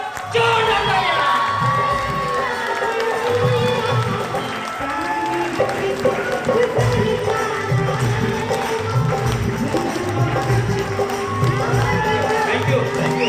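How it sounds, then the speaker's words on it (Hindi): An audience at a network marketing business gathering applauds and cheers to welcome a guest, a loud, sustained wash of clapping, shouts and whoops filling the whole stretch, with a host's voice briefly audible beneath. "आप लोग जोरदार तालियों के साथ, हर जोरदार हल्लों के साथ स्वागत करें"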